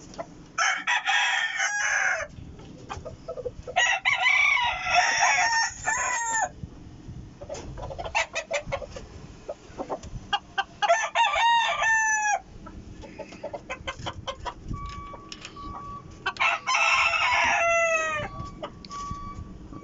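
Roosters crow repeatedly in long rising-and-falling calls, several birds overlapping, with clucking and farmyard bird sounds between crows.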